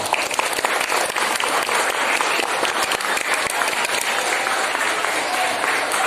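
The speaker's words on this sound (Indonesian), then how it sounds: "Tepuk tangan untuk kita semua." Applause from a school audience at a national-insight outreach event at SMK Muhammadiyah 2 Samarinda: dense, steady clapping fills the space at full volume for the whole stretch, with faint voices mixed underneath.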